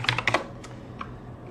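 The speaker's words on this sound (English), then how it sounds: "you can sort of verify this is by typing in nvidia-smi into your terminal" Someone types a command into a terminal on a computer keyboard on Ubuntu: a quick cluster of sharp, close key clicks at the start, then a few slower isolated taps, fairly loud in a quiet room.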